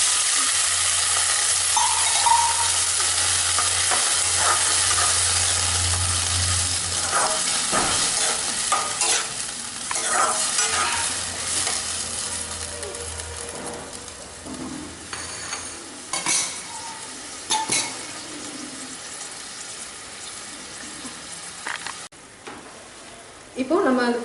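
Cooked mutton is stirred into a sizzling green chilli and tomato masala for a Madurai-style curry in a pan. Steady frying hiss continues under intermittent spoon scrapes and clanks against the pan, close and fairly loud.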